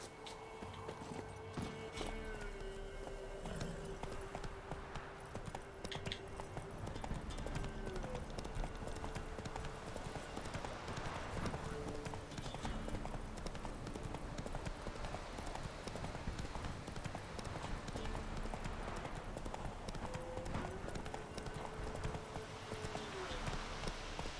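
Horse hooves clip-clop steadily during riding in The Witcher 3, a continuous rhythmic gait under ambient game music and a low hum, moderately close and even in loudness throughout.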